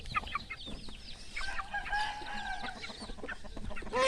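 Big and small chickens cluck and squawk in bursts at feeding time, several birds overlapping close by with sharp calls and a busier chorus toward the end.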